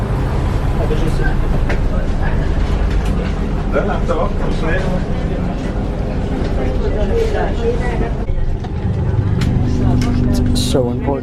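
A Thai passenger train on a long ride gives a steady, loud interior rumble with rattling and clatter throughout, and faint background voices mixed in.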